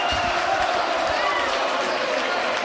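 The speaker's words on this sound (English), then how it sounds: "And the crowd goes wild." Crowd noise at a PCL quarterfinal basketball game between Devon and West Catholic, a steady loud roar of cheering with no pauses, heard up close throughout.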